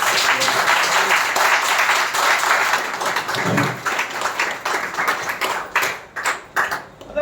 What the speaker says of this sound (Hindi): जोर से और तालियों के साथ अपने लिए एक बार जोरदार स्वागत करेंगे।